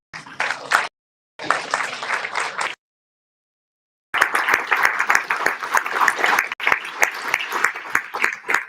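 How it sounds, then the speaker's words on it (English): An audience at a celebration-of-life memorial gathering claps for a speaker. The applause is loud and close, breaks off twice for gaps of silence, then resumes as sustained, dense clapping. "Give a round of applause, please, for Brother John Dillon."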